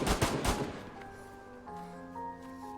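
In the DayZ video game, a quick burst of three or four close gunshots fires at the start, then fades into a steady tonal hum with no further shots.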